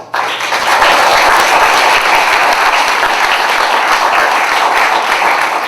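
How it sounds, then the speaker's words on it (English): A live audience at a monologue slam bursts into loud, sustained applause that stays dense and steady for several seconds, filling the room with no voices on top. "Give yourselves a round of applause."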